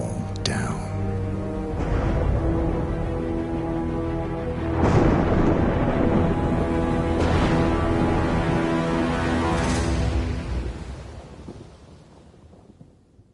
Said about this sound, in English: We should head out before the storm hits.